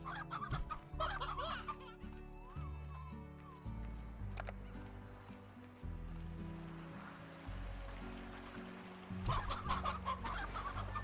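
Chickens and a rooster clucking in the Slime Rancher video game, repeated game-sound clucks over steady background music, with a burst of louder clucking near the end.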